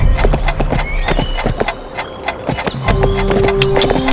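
Horse hooves clip-clop at a gallop with a brief whinny in the Barbie Horse Adventures: Wild Horse Rescue game on PlayStation 2, the rhythmic beats loud and close among chiming game effects.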